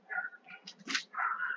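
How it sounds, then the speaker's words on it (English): A dog barks a few times in quick bursts, fairly close, with short yelping notes between barks, heard over the video game Besiege with no one talking. "Ignore the barking, it's just a stupid dog."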